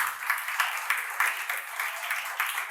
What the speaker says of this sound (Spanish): Vamos a darle un aplauso al Padre.